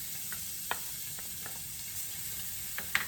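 Garlic sizzles quietly in about four tablespoons of olive oil, giving a faint, even hiss broken by a few sharp pops and crackles.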